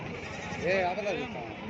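A goat gives a short wavering bleat over steady crowd chatter and talking at a busy outdoor livestock market in Gudur.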